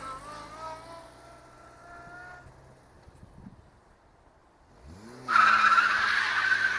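Tyres on a Volkswagen Lupo spin and squeal during a burnout, the engine revving, then dropping away before a loud, harsh tyre screech bursts in and holds steady.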